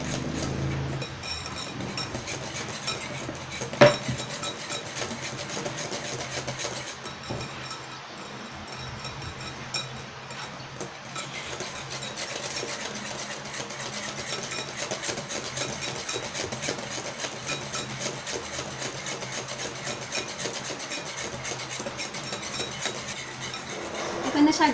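Yakult ice cream mixture being mixed, a steady mechanical whir with faint scraping and clinking throughout, a sharp knock near the start, moderately quiet.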